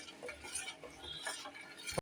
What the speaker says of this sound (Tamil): நல்லா கைவிடாமல் கிளறிட்டே இருக்கணும்